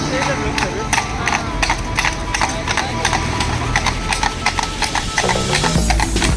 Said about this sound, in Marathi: असा टापांचा आवाज करीत धावणारे अलिशान दोन घोड्यांच्या बग्गी देखील आहे